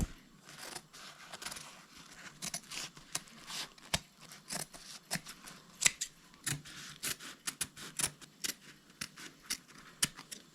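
Scissors snipping through hammock fabric during a DIY camping hammock build, a steady run of short, sharp close-up cuts repeating irregularly throughout, fairly quiet with no talking.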